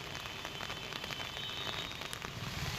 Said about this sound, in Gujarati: ભારે વરસાદથી નીચાણવાળા વિસ્તારોમાં પાણી ભરાઈ ગયા છે।